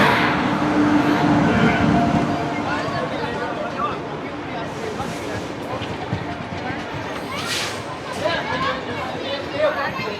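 A train pulling into a busy railway station, its low rumble and clatter of rail cars continuing beneath a crowd's babble and nearby people talking.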